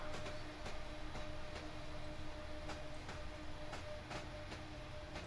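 A Union Pacific gas turbine electric locomotive train rolls past in Cheyenne, a steady broad rumble with regular clicking wheel beats over the rail joints, fairly distant.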